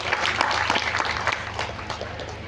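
Applause from an audience at an Indonesian official gathering, a steady wash of many hands clapping at moderate loudness, continuous throughout with no voices standing out.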